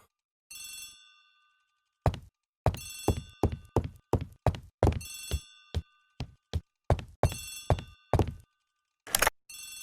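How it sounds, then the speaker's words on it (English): An old bell telephone in Poirot's home rings in repeated bright, metallic bursts separated by silent gaps, mixed with soft thunks, close and clear with no talking. "Poirot, the telephone."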